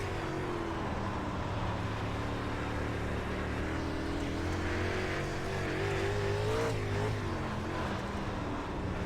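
Super late model race cars at the Cedar Lake track, engines roaring steadily and loud throughout with rising and falling pitch as they circle, no talk over them.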